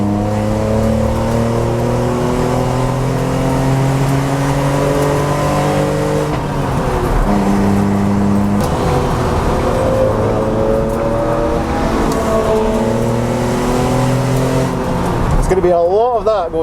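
A budget £1000 track car accelerating hard around a race circuit, its engine note climbing through gears in rising sweeps with brief dips at shifts, loud and close from inside the car, with someone talking over it.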